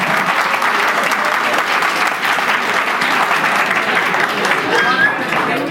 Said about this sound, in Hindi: अपने उन टीचर्स के लिए जोरदार तालियां बजा दो जो आपको यहाँ लेकर आए